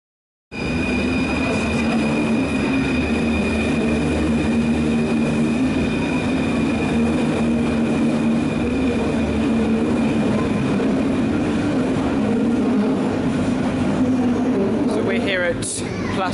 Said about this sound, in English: The metro runs right into the main station shed, towering above the mainline tracks at a right angle.